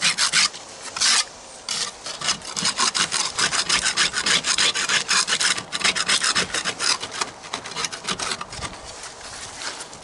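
Rapid, harsh scraping strokes of a stiff wire brush rasping against rusty metal from magnet fishing, close and rhythmic, with a couple of brief pauses.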